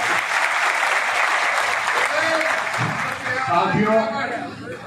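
Dense crowd applause at an open-air Congress party political rally, a loud continuous roar of many hands clapping that thins slightly near the end as a voice begins speaking over it.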